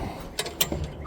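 A bolt being tightened on a Jeep gives a few quick, faint metallic ratcheting clicks in a brief burst over low background noise.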